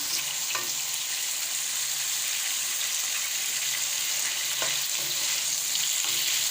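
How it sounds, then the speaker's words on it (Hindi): Potatoes frying in oil in a karahi for a dhaba-style dish, with a constant loud hiss and a few scattered clinks of a spoon stirring them. "आलूओं में साथ साथ चम्मच चलाते जाएंगे।"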